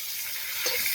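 Cauliflower frying in a pan gives a steady, close, bright sizzle that swells slightly near the end of a brief moment.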